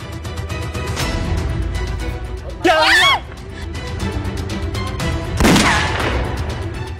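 Gunshots in a Thai TV drama, loud sharp blasts amid a tense scene, with shouting, a scream and people talking throughout.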